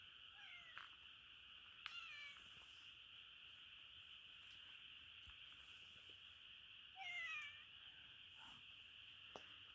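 A stray cat meows several times outdoors, short whining calls scattered over about ten seconds against a constant high insect-like drone, fairly faint and distant, with no talking.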